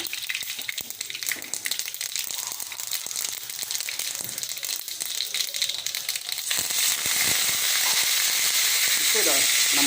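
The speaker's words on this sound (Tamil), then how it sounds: "இப்போது அதே கடையில் கொஞ்சம் எண்ணெய் ஊற்றி கடுகு கருவேப்பிலை போடணும்" Steady crackling sizzle of mustard seeds and curry leaves frying in hot oil, rising louder and denser toward the end, with clinks of a utensil against the pan.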